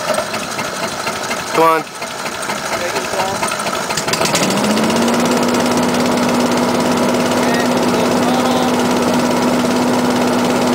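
A hovercraft engine cranks briefly and then catches, settling into a steady, loud, continuous drone that holds to the end, with a short spoken exclamation near the start.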